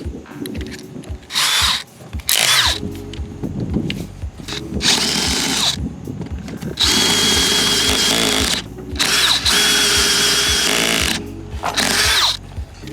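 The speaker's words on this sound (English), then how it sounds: "We're going to drill a really big hole" A power drill cuts a very large hole during a sailboat baby stay repair, running in loud bursts of several seconds each, with short pauses and clunks in between.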